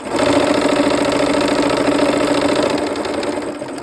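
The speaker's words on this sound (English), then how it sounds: "We'll go ahead and sew those two rows together" Sewing machine running steadily as it stitches two quilt rows together, a continuous close mechanical whir with fine rapid needle pulses and no talking.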